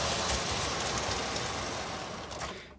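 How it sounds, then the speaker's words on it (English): Lionel postwar model train locomotive running on DC power, a dense rumbling clatter up close that fades slightly before cutting off abruptly near the end. "I was just really impressed by this locomotive, especially running on"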